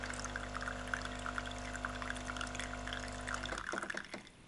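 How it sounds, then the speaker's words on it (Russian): Polaris PACM 2060A coffee machine flushing water through its nozzles, a steady pump hum with trickling, splashing water that stops abruptly near the end, close and moderately quiet. "Сейчас он, походу, промывает основные."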